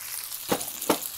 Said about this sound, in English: I'm just going to warm them up